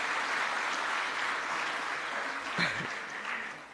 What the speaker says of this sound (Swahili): Naomba tumpigie makofi mengi Mheshimiwa Rais.